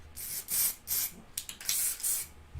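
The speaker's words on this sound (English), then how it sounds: "Layer and spray that." An aerosol paint spray hits model meadow scenery in a series of short, quiet hissing bursts, each lasting about a third of a second, with brief pauses between them.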